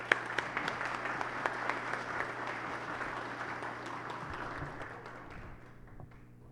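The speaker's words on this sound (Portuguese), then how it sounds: "que nós tenhamos uma salva de palmas para vocês, delegados" Sustained applause from delegates at a municipal conference public hearing, a dense steady patter of many hands filling the room before slowly tapering off toward the end.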